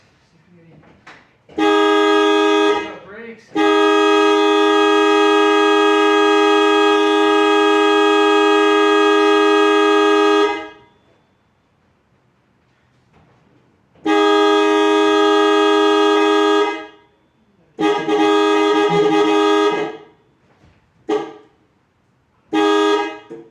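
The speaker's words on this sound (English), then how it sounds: "Looks like the horn's working." Repeated loud honks from a Datsun B210 car horn: two long sustained blasts followed by several shorter toots, with a brief spoken word in a pause between them.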